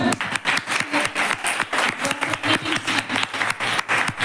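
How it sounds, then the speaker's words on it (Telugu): Children at a Sunday school Bible gathering clap for a visiting guest, a lively sustained round of many small hands, close and even, with faint voices mixed in. "మన క్లాప్స్ కూడా"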